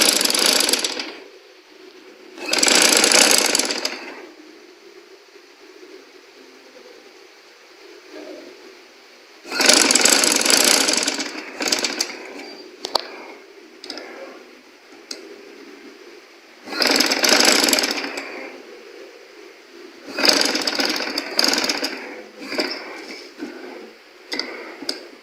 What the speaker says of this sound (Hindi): इसको अब साथ में स्टिच करेंगे कमीज़ के साथ